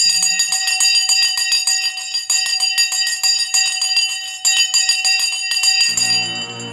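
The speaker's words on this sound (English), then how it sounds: "The bell has gone." A bell rings loudly and rapidly for about six seconds to mark the stock market close, a bright, sustained metallic clanging that stops abruptly, leaving a low hum.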